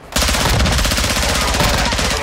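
Sustained automatic gunfire in the video game DMZ, a loud, close burst of rapid, evenly spaced shots that starts abruptly and runs without pause for about two seconds.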